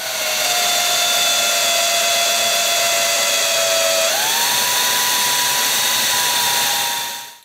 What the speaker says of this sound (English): now we're going to go ahead and countersink in some 3/8 inch holes to hold our rare earth